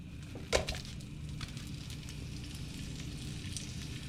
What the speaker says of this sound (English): I just put a little bit of oil down in the pan. Gotta add the sausage.